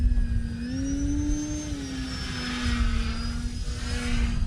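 An E-flite Turbo Timber RC plane at full throttle, its electric motor and propeller giving a steady buzzing whine that rises briefly in pitch and then holds, close by, with wind noise rumbling throughout.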